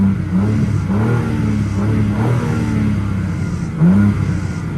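A 2023 BMW M4 Competition Convertible (G83) engine revved in M mode, a steady loud engine drone with a couple of rising rev blips near the start and end.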